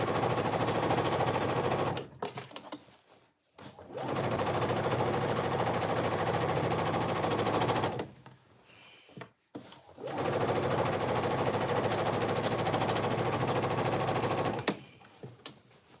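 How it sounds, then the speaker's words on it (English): A sewing machine top stitching cargo pants fabric runs in three long steady stretches, close and loud, each broken by a short pause. "And then I'm just going to do a little top stitch."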